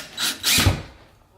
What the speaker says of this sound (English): Unscrewing the rails.